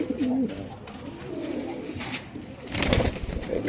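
A male white Lakkha pigeon coos close by in low, throaty calls, with a louder burst of cooing near the end over faint background noise.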